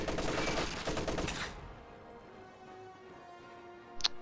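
Machine gun fire in a strategy-style video game: a dense, rapid burst for about a second and a half, then a quieter low battlefield rumble with a brief sharp ping near the end.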